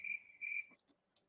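Two quick bursts of high cricket chirping from a played sound effect, close and clear, then faint clicks.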